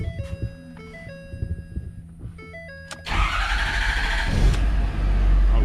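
A 2011 Ford F250 Powerstroke diesel truck cranks briefly and then catches, settling into a loud, steady diesel idle close by after a few seconds of quieter beeping and clicking.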